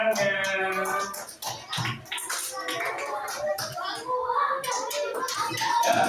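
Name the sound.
children clapping hands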